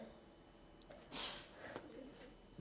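A single sharp sneeze bursts out in a lecture room between stretches of a lecturer talking about forces, loud and brief against a quiet background.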